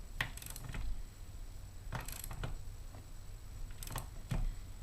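A bottom bracket cup being tightened on a 2010 GMC Denali road bike, heard as a few separate close metallic ratcheting clicks from the tool, spaced about two seconds apart, over quiet room noise.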